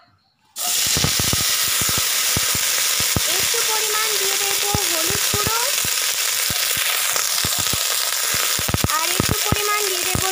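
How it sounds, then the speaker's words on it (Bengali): After a brief silence, flat beans hit hot oil and burst into a loud, close, continuous sizzle dotted with sharp crackles and pops that keep going. "এইবার আমি শিমগুলোকে তেলের মধ্যে দিয়ে দেব।"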